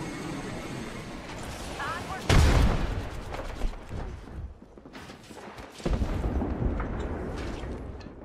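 A frag grenade bursts in a heavy, booming blast in the battle royale shooter Apex Legends, followed by rumbling gunfire and another surge of combat noise, with voices talking throughout.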